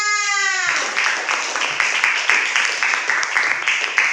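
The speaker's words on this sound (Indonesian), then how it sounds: "Tepuk tangan untuk kelas 6." Applause for a grade 6 class at an elementary school, SDN 1, a dense wash of many children clapping at a steady, lively rate and fairly near, coming in after a brief voice at the start.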